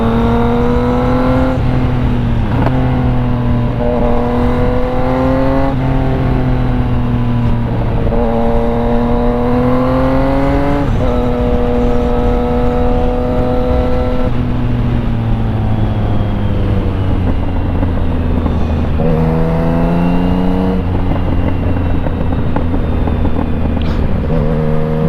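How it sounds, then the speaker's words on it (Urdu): A motorcycle ridden at night in Japan revs loud and close, its engine pitch sweeping up and down through repeated accelerations and gear changes, with no talking. "بائک پٹاخے مارتی ہے نا"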